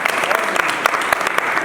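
Brief scattered clapping from a gathering inside an old Digambar Jain temple in Chandni Chowk, Old Delhi, with individual claps standing out over a murmur of voices.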